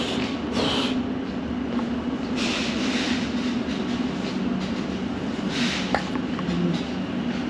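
A train at Upminster Station on a winter afternoon, a steady broadband rumble with a low hum and faint clicks, close and continuous without talk.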